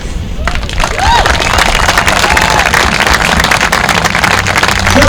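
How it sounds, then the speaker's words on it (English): A crowd at a reunion for a 1986 state champion high school team breaks into sustained applause, dense clapping swelling after a brief pause and holding steady, loud and close, with scattered voices mixed in. "we can applaud each one as they stand"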